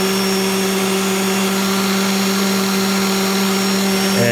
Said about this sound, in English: my rotary doesn't spin at as high RPM as a corded one, so it takes a little bit of time